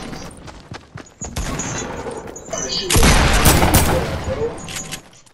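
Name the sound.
gunfire in the video game Fortnite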